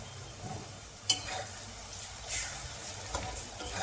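Garlic paste, chili and turmeric sauté in a pan for a chicken dish, making a faint, even sizzle with a few short stirring scrapes and clicks up close, no one speaking.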